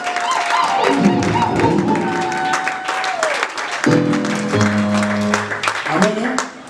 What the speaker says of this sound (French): On l'acclame très très fort pour les